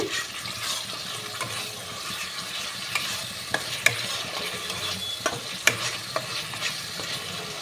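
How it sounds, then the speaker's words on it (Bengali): Spice paste for a spicy fish and cabbage curry fries quietly in oil, with a soft continuous sizzle broken by scattered sharp scrapes and clicks from stirring in the pan. "মশলাটা ভাজা হয়ে গেছে তেল ছেড়ে দিয়েছে"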